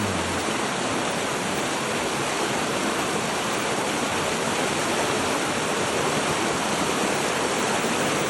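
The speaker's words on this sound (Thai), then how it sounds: "เป็นน้ำตก" A waterfall pours in a constant, dense rush of white noise, steady and loud with no voices.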